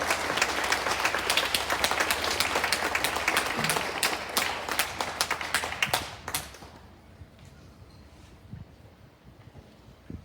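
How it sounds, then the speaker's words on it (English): A school audience at a Stage 3 presentation day claps for Chad and Taj Wolfenden. The applause is loud and brisk for about six seconds, then thins to a few scattered claps and fades into quiet. "We please give a big round of applause to Chad and Taj Wolfenden"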